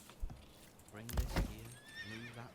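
A horse whinnies in the medieval strategy game Manor Lords, a clear harmonic neigh with a few hoof clops, heard close over a low game backdrop.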